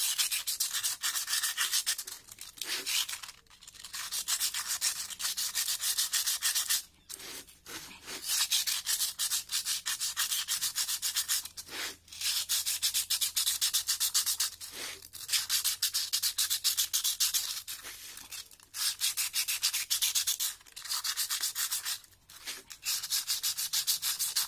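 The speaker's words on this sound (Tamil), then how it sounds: "எமரி பேப்பர் வச்சு நல்லா தேய்க்கணும்." Motorcycle drum brake of a Yamaha FZ V2.0 being scrubbed with emery paper, a loud, continuous rasping abrasion in long back-and-forth strokes broken by brief pauses, heard close up without speech.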